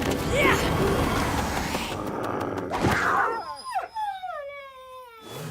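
A dog howls in long, rising and falling wails near the end, after a stretch of noisy rumbling and muffled voices.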